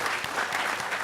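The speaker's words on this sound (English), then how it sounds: "So I'd like to give her a round of applause." A crowd at a closing session of a conference Q&A breaks into applause, a dense, steady wash of clapping hands that fills the short moment at fairly close range.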